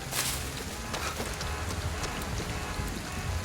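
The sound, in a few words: rain falling in a video game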